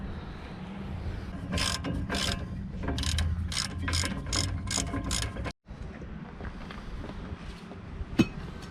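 Rapid ratchet clicking in repeated short bursts as 15 mm brake caliper bracket bolts are loosened on a Ford Mustang, close and fairly loud, with a brief pause and a sharp knock near the end.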